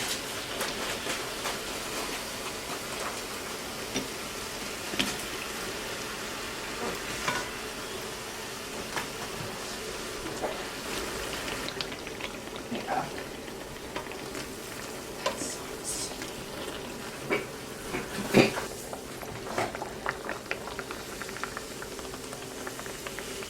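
Beignet dough frying in hot oil, a steady soft sizzle and bubbling crackle running continuously, fairly quiet and close, with occasional sharper pops and faint background sounds.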